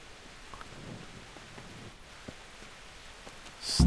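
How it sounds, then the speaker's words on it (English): Steady soft rain patters on a surface in the video game Kingdom Come: Deliverance, a quiet continuous hiss with scattered drops, ending in a brief louder burst. "And it's raining."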